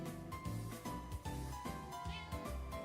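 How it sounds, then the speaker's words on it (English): A house cat meows indoors, a faint repeated series of calls in a steady rhythm over a low background hum, with no one talking. "My cat is here."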